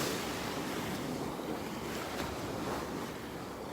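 Ocean surf rolls and breaks steadily on a beach in North Naples, Florida, a continuous loud wash of waves with wind buffeting the microphone.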